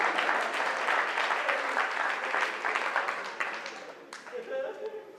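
Audience applause at a stage performance, a dense wash of clapping at steady strength that thins and fades near the end as a voice begins.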